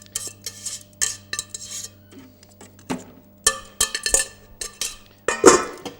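Spinach leaves, onion and garlic dropped into a food processor bowl while making fettuccine with chicken and spinach, giving a run of close clattering knocks and clinks of utensils against the bowl, with no one speaking.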